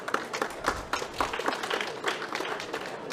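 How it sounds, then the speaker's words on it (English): An audience at a solar energy conference applauds a panelist, a moderate spread of scattered hand claps from a mid-sized crowd heard at some distance, continuing for the whole span. "A round of applause, please."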